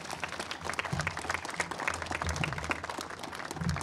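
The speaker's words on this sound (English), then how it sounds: "I think they deserve a round of applause" Audience applause for firefighters at a firefighter appreciation event, steady clapping from a crowd throughout, moderately loud with some low rumble underneath.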